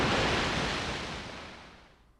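A character plunges into the ocean in Paper Mario: The Thousand-Year Door, a broad rushing wash of water that starts full and fades steadily away over a couple of seconds, with no voices.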